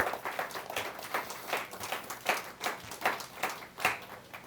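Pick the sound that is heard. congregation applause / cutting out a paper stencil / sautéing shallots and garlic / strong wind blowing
congregation applause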